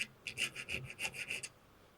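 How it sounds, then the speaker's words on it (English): Hand file rasping across a nickel weld on cast iron, part of a dismantled cutter grinder; about nine short, even strokes in a quick steady rhythm, close and clear, then silence. "Yep, that's filing fairly easy,"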